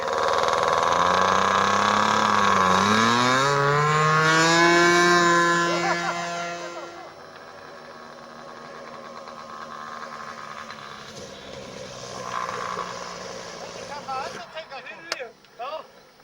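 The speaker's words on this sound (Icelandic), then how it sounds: "Gunnís er að fara að prófa vélamótorinn" A model aircraft engine is test run outdoors, a loud buzzing drone that rises and sweeps in pitch for several seconds, then drops away, followed by quieter sputters and knocks as people talk nearby.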